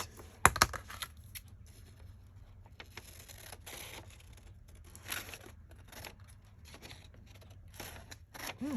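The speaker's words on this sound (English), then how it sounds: "Let me get my scissors." A few quick snips of scissors at close range in a quiet room, with scattered soft rustling and handling noises between cuts.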